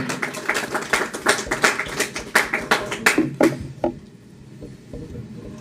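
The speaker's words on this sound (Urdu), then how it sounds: "شاداب احمد صاحب، تالیاں." Small audience clapping as a performer is invited to present a Quranic anthem, a modest round of distinct, separate claps that thins out and stops near four seconds, with soft room sound after.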